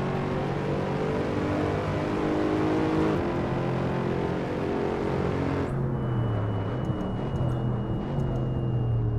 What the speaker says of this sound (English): You can actually hear the brakes. Do you hear that whining?